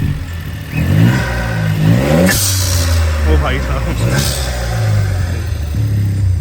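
A modified VW Polo with a straight-pipe exhaust cold-starts and revs, the rough, loud engine rising and falling up close while someone talks over it.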